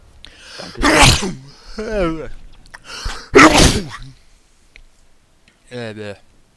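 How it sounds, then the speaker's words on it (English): Loud sneezes burst out close by, two strong ones in quick succession, with a voice talking between them and briefly at the end. "You're really sneezing."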